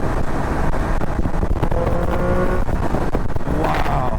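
A Triumph Speed Triple 1200 RS engine roars loudly and steadily at high revs, a dense, continuous close-up motor drone under riding wind.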